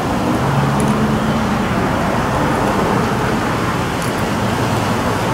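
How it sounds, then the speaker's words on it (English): Air rushes steadily out of a Chinese scooter tire through the valve stem with its core removed, a loud continuous hiss that holds without a break. "If you remove the inside of the valve, the air will come out"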